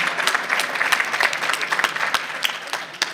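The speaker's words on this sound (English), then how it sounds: "Another round of applause for her" An audience at an evening awards event claps for a woman, giving a short burst of lively, fairly dense applause with individual claps standing out near the listener.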